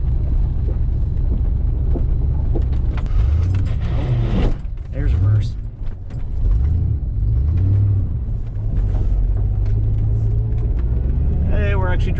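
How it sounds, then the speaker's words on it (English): A broken-down Gambler vehicle driving, its engine giving a loud, close rumble with rattling, clanking and irregular mechanical noises throughout, and a brief dip in the middle as it shifts. "Oh, and it is actually driving. Wow, this is so sketchy. Making all sorts of noises."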